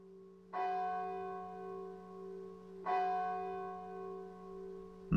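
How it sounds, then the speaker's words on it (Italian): The church bell of St. Mary Magdalene strikes twice at midnight, each deep toll ringing out and slowly fading before the next, spaced a couple of seconds apart. "aveva sentito le campane della chiesa di St. Mary Magdalene suonare la mezzanotte"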